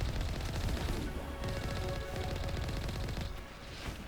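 Gunfire in the video game Mass Effect Legendary Edition, a dense, loud barrage of rapid shots and blasts with rumbling low impacts, continuous and close, no speech.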